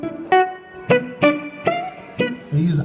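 Guitar notes plucked with the bare thumb instead of a pick, six or so soft, rounded single notes spaced about half a second apart, close and clean, with a brief fumble at the end.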